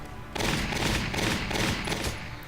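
Gunfire in the video game Valkyria Chronicles: a dense rattle of rapid shots begins abruptly and continues almost without pause, loud and close, with no talking.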